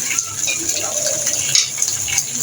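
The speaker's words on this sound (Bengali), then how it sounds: "আমি দিয়ে দিচ্ছি বেগুনগুলো, আমি হালকা করে ভেজে নিব" Eggplant pieces frying lightly in a pan, a steady soft sizzle with occasional stirring and utensil scrapes against the pan, close and continuous with no voices.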